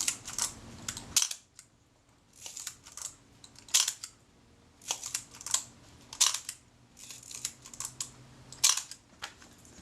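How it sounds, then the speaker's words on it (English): The shutter of a Kodak Retina Reflex S camera under repair fires over and over, a run of sharp mechanical clicks and clacks at an uneven pace, close and crisp. "Well, the shutter certainly works. We'll set that down on an 1/8."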